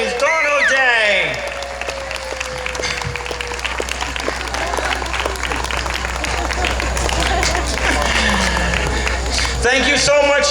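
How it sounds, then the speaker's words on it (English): Concert audience at a live music set in Yorktown claps and cheers for the performer, a sustained wash of applause with whistles and shouts, fairly loud and close, with a voice over it at the start. "Give her a big round of applause, please"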